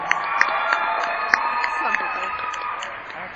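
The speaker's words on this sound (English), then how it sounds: "Give them a huge round of applause." A school audience at a BMX show claps and cheers loudly and steadily, with shrill shouts and whoops from children popping out of a dense crowd roar.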